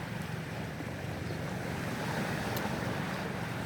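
Sea waves wash steadily onto a beach, a dense continuous roar of surf with wind buffeting the microphone, loud and unbroken throughout with no voices.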